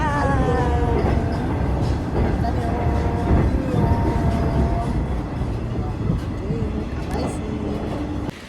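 A train at a railway station keeps up a steady, loud rumble with clickety-clack wheel rhythm and faint squeals. Murmuring voices run underneath the whole time.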